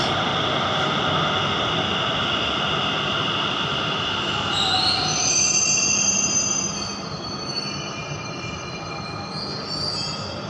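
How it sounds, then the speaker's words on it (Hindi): A Delhi metro train bound for Maujpur-Babarpur rolling in with loud, sustained high-pitched wheel squeal over a steady rumble, gradually slowing. "मेट्रो आ गई है मौजपुर बाबरपुर के लिए।"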